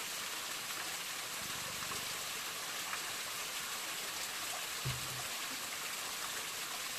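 Cold fresh spring water on Mount Wellington, Hobart, Tasmania, pours steadily into a container, a continuous even rushing splash with a faint brief knock partway through.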